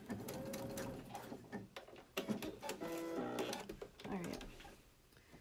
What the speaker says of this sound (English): back tack a few times to make sure that the elastic is secure